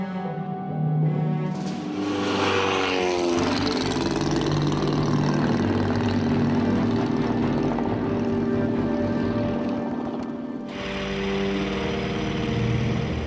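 A WWI aeroplane's propeller engine drones loudly and steadily, a close throbbing roar with a rising pitch near the start and an abrupt change toward the end, with no voices.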